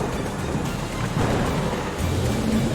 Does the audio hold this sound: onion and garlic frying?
no